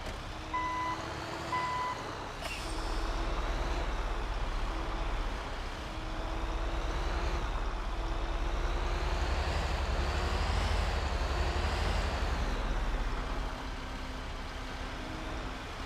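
A truck pulls into a warehouse in Grand Theft Auto V. A steady truck engine drones throughout, with repeating reversing beeps early on and a hiss like an air brake, all heard alone without talk.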